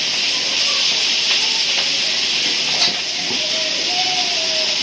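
Shrimp hitting a hot pan for a Bengali panta bhat meal set off a steady, bright sizzle and hiss that carries loudly through the whole stretch, with faint scraping and a few light clinks over it.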